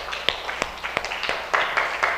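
A school class claps together at the end of a lesson, a short burst of scattered, uneven claps from a small group nearby.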